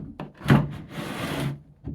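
Wooden drawers in an abandoned house left untouched since 1992 scrape open in a short rubbing slide, with a sharper knock near the start and a soft bump at the end.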